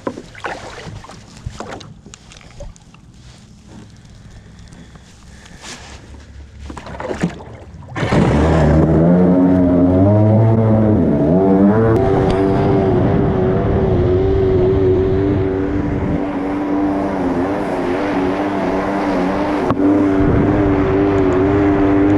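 A jet surf motorized surfboard on the water at Suttons Bay starts up after quiet splashing and then roars loud and close, its engine whine rising and falling as it rides.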